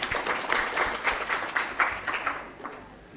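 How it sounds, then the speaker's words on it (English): A small conference audience claps for a speaker at a research and science gathering, moderate and somewhat uneven, tapering toward the end. "We should give her a clap."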